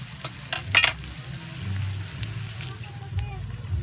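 Dried fish (tuyo) and bitter gourd (ampalaya) fry in a pan with a steady, close sizzle, broken by a few brief scrapes and clicks of cooking utensils.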